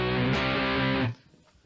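Electric guitar through a Peavey Valve King valve amplifier, a sustained distorted chord ringing loud for about a second before cutting off abruptly into quiet room noise.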